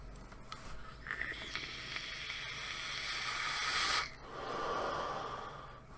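A vaper draws long inhales through a Kangertech Subtank on an iStick 60W set to 30 watts with a 0.38-ohm coil and open airflow, producing a steady airy hiss and crackle, then an exhale rush, close and alone.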